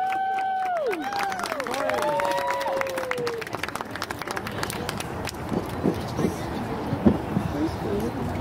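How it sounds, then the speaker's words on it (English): Audience applause at a school K4 class Christmas choir celebration, a steady crowd of clapping and cheering filling the room after an announcer's voice, sustained for several seconds. "Let's give a big round of applause."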